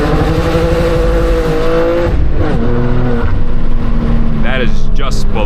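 A stock BMW G87 M2 with a six-speed manual revs hard through a straight-through valved exhaust that is essentially a straight pipe. The engine note is loud and close, climbing and falling through the gears without a break.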